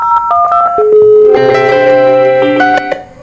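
Telephone keypad tones sound as a call is placed on a CUCM-integrated office phone, a quick sequence of distinct DTMF beeps followed by a sustained ringback-like tone, close and clear with no talk.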